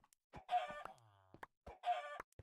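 Chickens cluck in the Minecraft video game, two short clucking bursts close and clear against silence.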